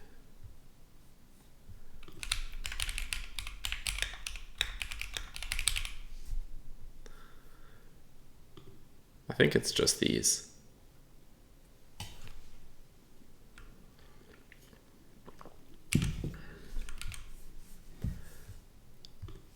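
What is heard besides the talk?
typing on keyboard with Gateron G Pro Brown switches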